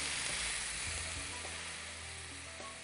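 Wine poured into a hot pan hisses into a loud, steady sizzle that slowly eases off, with no talk over it.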